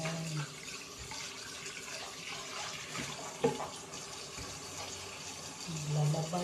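A kitchen tap runs steadily into a sink while dishes are washed, a soft continuous gush close by, with occasional faint clinks and a person talking quietly.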